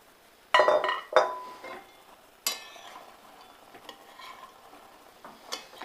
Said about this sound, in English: Then I'm going to stir them to coat.